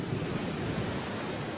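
Hurricane Sandy batters the coast with storm waves up to 4.5 meters and gusts over 135 km/h, heard as a steady, dense roar of surf and wind with no break.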